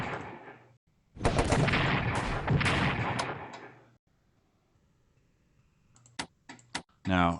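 Gunfire from the Strategic Command: World War I strategy game as an attack hits a Russian unit, a dense, loud burst of shots lasting about three seconds, then near silence and a few sharp clicks with a brief voice at the end.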